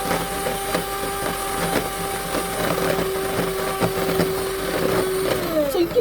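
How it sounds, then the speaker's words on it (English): Electric hand mixer whirring steadily as it whips cream for homemade ice cream, a loud, close, continuous motor drone with faint rhythmic knocks of the beaters against the bowl. "So you keep whipping until your whipped cream doubles its size."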